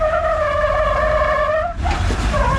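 An off-road Jeep pushes up a rock obstacle on a Moab trail, its engine droning steadily and rising with added throttle, loud and close, followed by a scraping, gritty burst as the tires work the rock.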